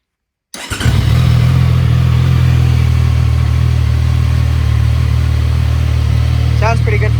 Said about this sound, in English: Y'all want to hear a nice cold start?